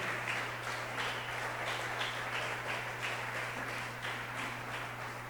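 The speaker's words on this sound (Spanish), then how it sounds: "¿Cuántos dan un aplauso al Señor en esta noche preciosa?" A church congregation applauding during an evening worship service, a steady wash of rhythmic clapping at moderate distance, with a low hum underneath and no talking.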